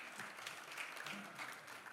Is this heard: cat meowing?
no